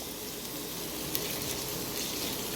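Vegetables sauté in a pan for Yippee noodles, a faint, steady sizzle with a few soft clinks and no voices.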